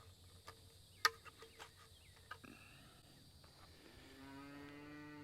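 Cattle mooing on a farm while being moved from one paddock to another after rain, a long low moo rising near the end, with scattered clatter and other farm sounds before it and no talk.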